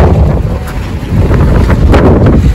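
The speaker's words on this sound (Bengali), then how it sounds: "ঠান্ডা আছে, হাওয়া দিচ্ছে প্রচণ্ড।" Fierce, cold mountain wind roars and buffets the microphone on the Amarnath pilgrimage route between Panchtarni and Sheshnag. The gusts are loud and close, with no talking.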